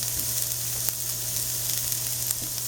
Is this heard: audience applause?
no